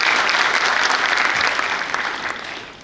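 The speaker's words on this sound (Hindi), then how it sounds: "उनका जोरदार तालियों से स्वागत आप सबने किया है" Loud audience applause welcoming actor Nitish Bhardwaj at the opening of the Chitrangan Festival: a thick, continuous burst of clapping from a large crowd that eases slightly toward the end.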